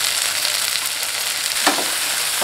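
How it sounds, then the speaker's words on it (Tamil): Onion and tomato sauté in a pan, a steady close frying hiss with a brief stir or scrape near the end, with no talking. "நம்ம சேர்த்துக்கிட்ட வெங்காயம் மேலே ஓரளவுக்கு நல்லா வதங்கினதும் ஒரு சின்ன சைஸ் தக்காளி கட் பண்ணிவிட்டு சேர்த்துக்கலாம்."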